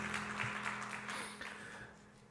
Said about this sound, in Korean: 우리 함께 박수로 격려하겠습니다